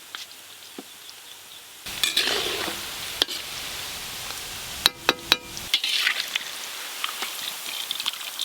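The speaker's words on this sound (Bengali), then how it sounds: "ফুলকপির পপকর্ন পকোড়া ভাজা হয়ে গেল।" Cauliflower popcorn pakoras frying in hot oil, a steady crackling sizzle that jumps louder partway through, with sharp metallic clinks of a utensil against the pan and scattered pops.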